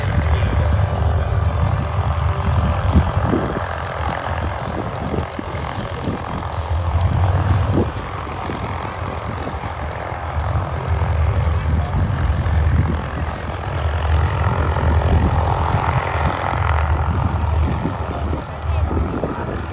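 Propeller airplanes of an aerobatic team run their engines on an airshow runway, a steady loud drone lasting throughout with slow swells in level.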